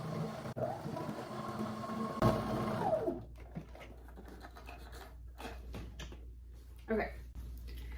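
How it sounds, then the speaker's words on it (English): A sewing machine stitches a jeans side seam in a short run of about two seconds, whirring up and cutting off, followed by quieter handling sounds of fabric and a voice speaking. "I'm going to keep going down the side and make sure that it transitions into this side seam really smoothly"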